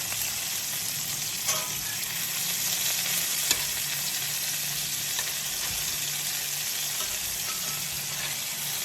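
Homemade meatballs brown in a pan with a continuous, fairly loud sizzle, joined by a few faint clicks as they are turned, with no voices.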